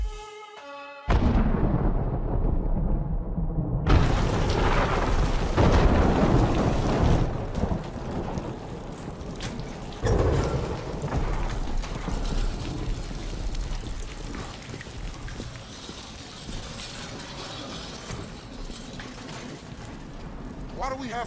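Heavy rain pours steadily in a horror movie scene, with a sharp thunderclap after a quiet start and further rumbles; voices speak under the downpour.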